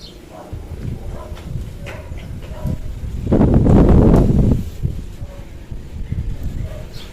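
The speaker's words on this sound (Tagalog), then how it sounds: "sobrang lakas ng hangin" Gusty wind buffets the microphone, swelling into a loud roaring rush midway before easing back, with faint rustling throughout.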